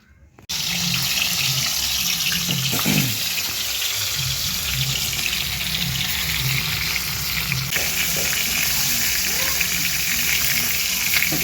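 Tap water runs steadily into a kitchen sink while pieces of fish are rinsed, a constant close hiss with a few louder splashes and clatters, with indistinct voices and background noise beneath.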